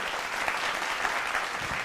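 Audience applause for a woman singer on a singing reality show, a dense, even wash of clapping from a seated crowd lasting a couple of seconds, with no voices over it.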